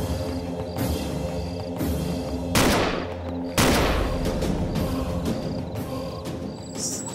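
Gunshots from a Hindi crime drama ring out as sharp, loud cracks, two heavier blasts standing out among several lighter reports spread over a few seconds, with no speech.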